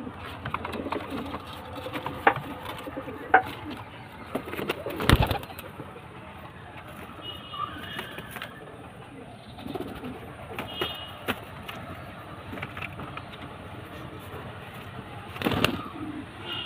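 Pigeons in a loft with a newly paired couple, soft low cooing and occasional wing flaps at moderate distance amid faint background ambience and a few louder thumps.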